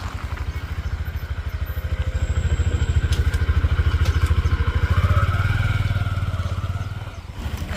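A motorcycle being parked, its engine running with a steady, close putter that swells slightly and then eases off.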